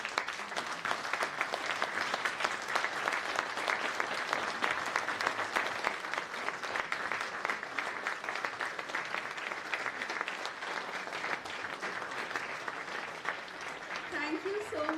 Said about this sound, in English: I would like every one of you to please stand up and clap for these partners